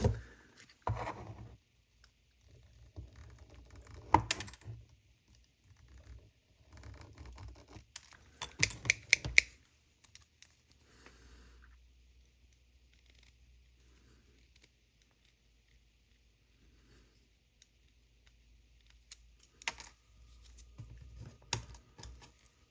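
Scattered snips and small cutting clicks come from trimming parts of a model kit, in brief clustered bursts separated by long near-silent pauses, up close.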